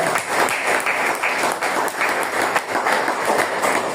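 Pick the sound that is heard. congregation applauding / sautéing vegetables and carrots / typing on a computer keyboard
congregation applauding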